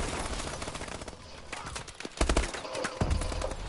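Gunfire in a shooter video game, with rapid bursts and sharp cracking shots scattered through a busy mix that grows louder in the second half.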